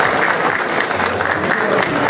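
Loud, close applause from an audience at an anniversary recognition event in Chincha, Peru, a dense steady clapping with crowd murmur mixed in across the whole stretch.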